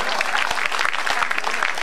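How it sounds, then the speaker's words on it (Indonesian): An audience breaks into brisk applause, many hands clapping closely together in a loud, busy burst that lasts under two seconds. "Ya tepuk tangan lah"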